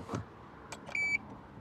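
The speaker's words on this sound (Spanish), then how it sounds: "Habéis escuchado el pitido, esto es una moto que hace muchos pitidos." A single short electronic beep from a Kymco AK 550 motorcycle, preceded by a few faint clicks, in an otherwise quiet setting.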